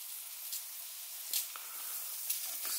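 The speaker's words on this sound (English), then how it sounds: "Steam coming out there" Steam hisses steadily from the opened valve of a Weeden stationary toy steam engine, a soft continuous spray with a few brief sharper puffs, quiet and close.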